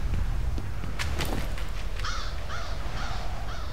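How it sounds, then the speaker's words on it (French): Crows in F.E.A.R. give four harsh, evenly spaced caws over a loud, rumbling background, after a few sharp clicks and taps at the start. "Saloperie de corbeaux"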